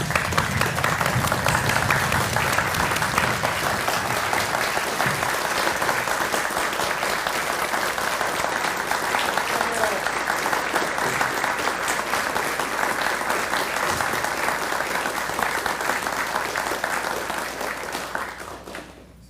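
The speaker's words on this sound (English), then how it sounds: "please stand and give a round of applause and a cheer to our good friend and fellow astronomy enthusiast" An astronomy club audience at a monthly meeting bursts into sustained, dense applause that holds evenly for about eighteen seconds before tapering off at the end, with no talk over it.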